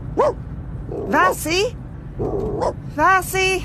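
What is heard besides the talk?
dog barking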